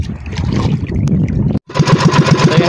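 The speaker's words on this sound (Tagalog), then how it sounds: "Papaandarin ko muna ang aking makina." A small fishing boat's engine is started at sea: a loud rough mechanical cranking, a brief cut to silence, then the engine catches into a steady rhythmic chugging idle up close.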